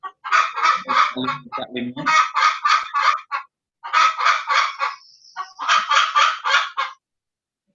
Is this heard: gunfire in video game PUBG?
no